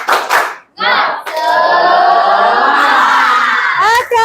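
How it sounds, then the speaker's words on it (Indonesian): A classroom of children shouts together in a loud, sustained group cry, with hands clapping and voices chanting in unison, close and energetic after a brief pause. "Oke, tepuk tangan."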